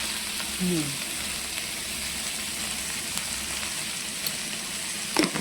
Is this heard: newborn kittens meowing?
no